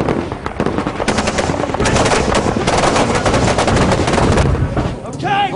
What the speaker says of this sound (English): Taking small arms fire and RPG about 200 metres to our front.